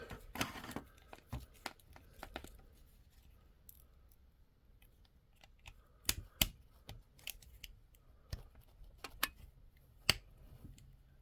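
A Marvel Legends Ultron action figure is handled as an arm part clicks into place, with a series of sharp plastic clicks and snaps scattered irregularly over quiet handling noise, close up.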